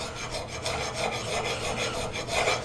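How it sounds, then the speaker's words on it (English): A steel file is pushed along an axe blade in draw filing under light pressure, producing close rhythmic rasping scrapes in repeated strokes with no talking. "Now, this is draw filing. I am putting a little pressure."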